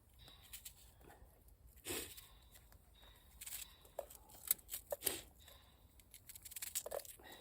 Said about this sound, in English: I'm going to dice this as well, actually.